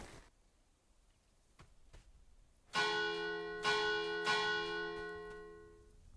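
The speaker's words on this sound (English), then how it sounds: "I rang the bell 3 times" Bell in the video game Escape From Duckov rung three times, each strike a loud resonant clang with a long ringing decay, following quiet footsteps and clicks.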